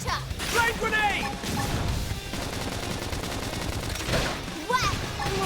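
Blasts and bursts of combat noise from a flame grenade going off in the video game Xenoblade Chronicles X, dense and continuous with sharp swells near the start and again toward the end, mixed with voices and game effects.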